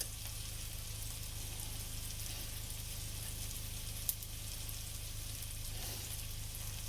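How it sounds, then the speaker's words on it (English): Sausage fries and browns in a pan with a steady, soft sizzle and crackle that carries on without pause, with one sharp tick partway through. "Oh, my sausage getting really brown there."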